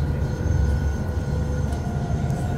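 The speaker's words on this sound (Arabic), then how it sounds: "طبعا زيرمات توصل عيا بالقطار هذا" A train bound for Zermatt, Switzerland rumbles along with a steady low drone and rolling rattle, loud and continuous from inside the car, with no talk.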